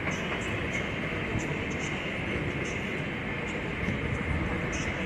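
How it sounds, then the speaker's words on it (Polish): Siemens Vectron locomotive hauling a train at Wrocław Główny station, a steady, dense rumble of rolling wheels and rail noise with faint high clicks, continuous and fairly close, with no voices. "Bardzo fajny Siemens Vectron."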